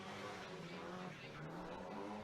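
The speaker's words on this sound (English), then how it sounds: "Foot flat to the floor, this little SR20 giving everything it's got right now" Nissan SR20-engined S13 drift car flat out at full throttle during a drifting competition, giving a continuous, distant engine roar mixed with tyre noise under crowd ambience, fairly faint overall.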